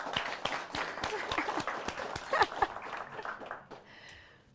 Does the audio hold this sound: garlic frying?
no